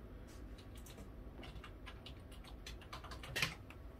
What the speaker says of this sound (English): That's me hitting the keyboard there.